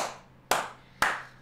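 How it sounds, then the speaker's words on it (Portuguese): Hands clap three times, sharp and close, at a slow, even pace about half a second apart, with no talk. "Palmas, viu?"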